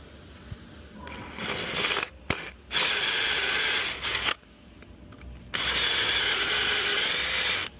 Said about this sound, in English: I'm just going to drill this out and coil it.